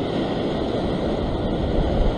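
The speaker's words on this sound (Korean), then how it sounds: "요 정도 파도가 계속 쳐줘야지" Sea waves washing against a rocky fishing spot along the coast, a continuous close roar of surf and wind with no distinct breaks, loud and alone.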